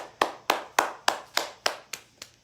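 Cupped hand tapping briskly along the arm during a self-massage movement exercise, about eight crisp, evenly spaced pats close up, fading slightly toward the end.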